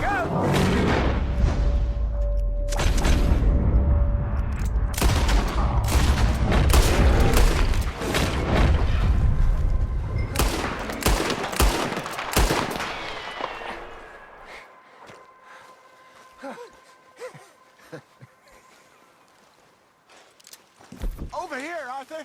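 Gunfire in Red Dead Redemption 2: a dense volley of loud sharp shots and booms through the first twelve seconds, thinning to sparse distant cracks, with people shouting and talking over it.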